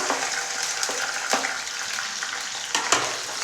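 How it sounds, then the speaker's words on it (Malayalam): Crushed garlic, ginger and slit green chilli frying in hot coconut oil for a brinjal masala fry, a steady loud close sizzle with faint crackles and stirring scrapes. "ചൂടായ വെളിച്ചെണ്ണയിലേക്ക് നമ്മൾക്ക് വെളുത്തുള്ളി ചതച്ചതും ഇഞ്ചി ചതച്ചതും പച്ചമുളക് കീറിയതും ഇട്ട് കൊടുക്കാം"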